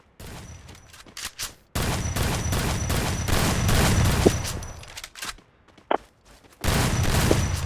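Rapid bursts of video-game gunfire from a Free Fire squad match crackle in dense volleys, broken by short gaps with a few isolated shots.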